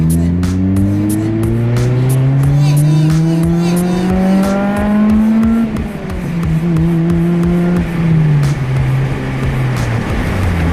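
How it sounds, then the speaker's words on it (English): Loud, close exhaust of an Acura RSX roaring under throttle, pitch climbing steadily through the gears with brief dips at each shift. "I'll let you hear this exhaust really quick"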